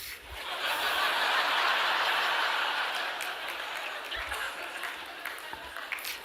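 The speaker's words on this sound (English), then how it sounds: "Now, I got a few claps on that" Applause and scattered laughter from a conference audience during a talk, a broad wash of clapping that swells early, holds, then thins into lighter scattered claps and chuckles.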